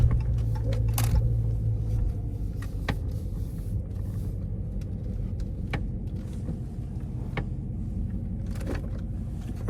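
A Dodge Charger RT pulls into a gas station with a low, steady engine rumble from inside the car and occasional light clicks and knocks over it.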